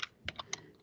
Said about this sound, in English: I'm going to type this equation in.